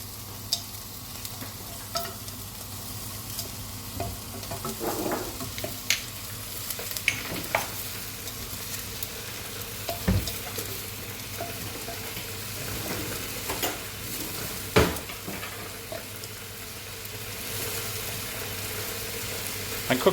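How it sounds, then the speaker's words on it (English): Onions sizzle steadily in a greased saucepan over medium heat as a utensil stirs them, giving a continuous frying hiss with occasional soft scrapes and knocks against the pan. "grease your saucepan and add in the onions and stir them"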